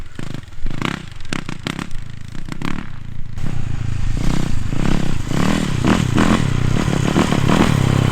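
A Yamaha YZ450F dirt bike being ridden close by, its engine revving and changing pitch as it pulls away, with clattering and scraping noises mixed in and a louder, steadier roar toward the end.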